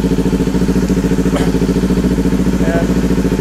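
Kawasaki Ninja 400 engine running in first gear as the clutch is let out, a steady pulsing close-up throb with light mechanical clatter while a person speaks over it.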